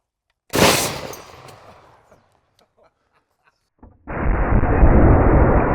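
Two .50 caliber rifle shots strike body armor outdoors: a sharp, very loud blast with a decaying rumble, a short quiet gap, then a second powerful report with a sustained roaring tail.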